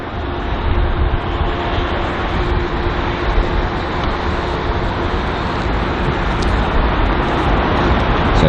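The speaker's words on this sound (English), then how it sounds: "So the American Airlines Boeing 777 just in the distance there." Steady broadband roar of an American Airlines Boeing 777 at London Heathrow, distant and continuous, filling the whole stretch without any talk.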